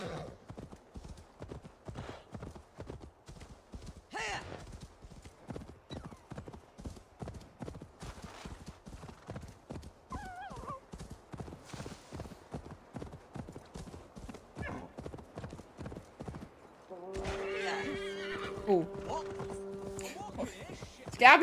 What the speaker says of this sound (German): Und jetzt rufe ich mein Pferd